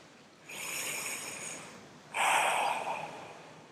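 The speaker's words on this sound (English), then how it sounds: "Take a couple of big deep breaths here." Two big, deep breaths from a person lying on their back, each a long airy rush, the second louder and fuller, heard up close with no talking.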